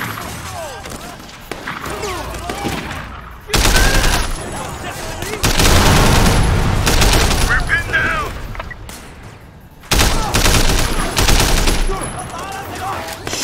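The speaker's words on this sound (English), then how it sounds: "We're taking heavy fire!" Heavy gunfire from an army of enemies in the video game Sleeping Dogs erupts in loud, sustained automatic volleys lasting several seconds each, separated by quieter stretches, with voices speaking over parts of it.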